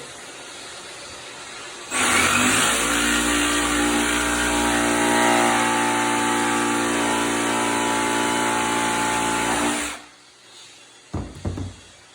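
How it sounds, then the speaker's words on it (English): A jigsaw cuts through wainscot cap trim in one loud, sustained eight-second run, starting abruptly and stopping, followed by a few brief knocks of the wood being handled. "So I'm gonna use a jigsaw here."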